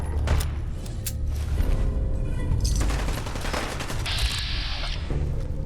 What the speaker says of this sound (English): I think we're being shot.